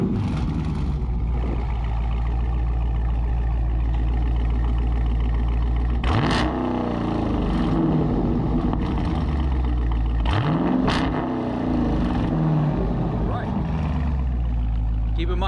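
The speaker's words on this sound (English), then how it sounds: "we're gonna get a little warm start in a couple revs here. This thing does sound good." A 2020 Dodge Challenger Scat Pack automatic with a ProCharged engine idles with a deep, steady rumble, then revs sharply twice, around the middle and again later, each surge rising and falling back to idle, close and loud.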